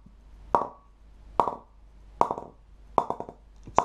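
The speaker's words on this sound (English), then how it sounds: "Hear the press and the sound of the mallet is really good." Mallet knocking on an MB Malik Sher Amin cricket bat, five sharp wooden taps spaced evenly about 0.8 seconds apart, with the last two coming as quick multiple bounces, close and clear with no talk.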